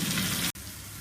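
Tomatoes go into onions sautéing in a pan for a potato fry, giving a loud, close, steady sizzle that breaks off in a brief dropout before the frying hiss resumes.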